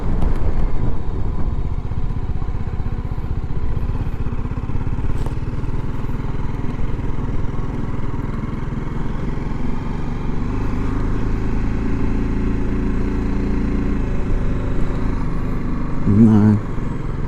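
A BMW G310GS motorcycle engine drones steadily while riding near West Bay, a loud continuous low rumble with wind noise, and a rider talks over it briefly near the end.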